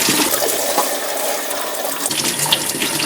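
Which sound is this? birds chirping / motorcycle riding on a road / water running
water running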